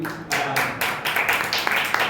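A church congregation claps together during a Hindi worship sermon, a dense run of hand claps that starts after a brief pause and carries on steadily, fairly loud and close, with no talking over it.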